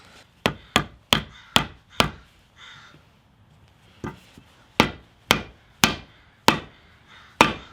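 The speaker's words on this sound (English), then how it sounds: "Okay, so I got it in with my rubber mallet." A rubber mallet taps a Prothane polyurethane bushing sleeve into the mustache bar of a Datsun 280Z, a series of sharp close knocks in two quick rhythmic runs separated by a short pause.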